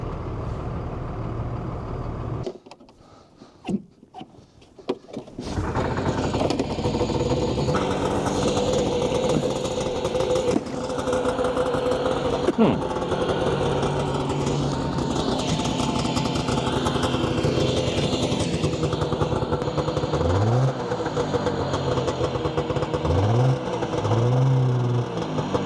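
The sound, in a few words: engine running after being started with boosted battery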